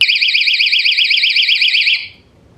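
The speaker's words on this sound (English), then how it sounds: "This has a very, very loud alarm." A door stopper alarm gives a piercing electronic warble rapidly up and down, loud and continuous for about two seconds before cutting off abruptly.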